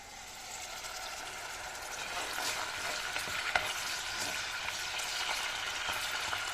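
Ground meat browning in a frying pan for a Turkish çiriş dish, a steady loud sizzle and crackle with occasional stirring scrapes, close and continuous with no talking.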